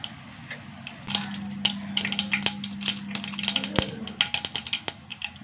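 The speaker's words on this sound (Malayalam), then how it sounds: "കടുക് പൊട്ടട്ടെ" Mustard seeds splutter in hot coconut oil, with sharp scattered pops and crackles that grow quicker and denser over a few seconds, heard up close.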